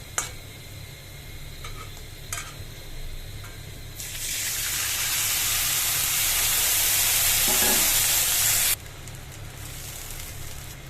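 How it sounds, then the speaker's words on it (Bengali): Sarputi fish fries in hot oil with a steady sizzle that swells loud and broad for several seconds mid-clip, then drops back to a softer crackle; no one speaks. "মাছটাকে এই যে ফ্রাই করে এবার উঠিয়ে নিব"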